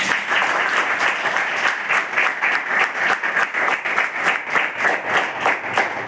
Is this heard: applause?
yes